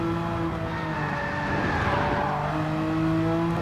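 A Porsche 911 racing at the Nürburgring in Gran Turismo 7, with a loud, steady engine drone whose pitch slides up and down as the car works through the gears and corners.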